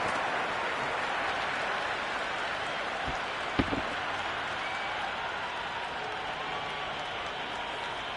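Steady roar of a cricket stadium crowd at a Sri Lanka vs Zimbabwe T20 tri-series match, a continuous dense wash of cheering and applause with a brief sharp knock near the middle.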